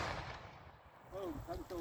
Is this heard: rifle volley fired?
yes